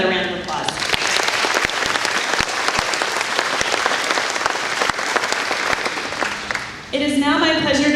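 Another round of applause for two young speakers at an agricultural awareness event, dense, loud clapping filling the room for several seconds, with a voice speaking briefly before it swells and again as it fades.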